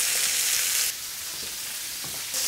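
Pork medallions with sage frying in a pan, a steady bright sizzle that briefly drops quieter in the middle before swelling again, with faint clinks underneath and no talk.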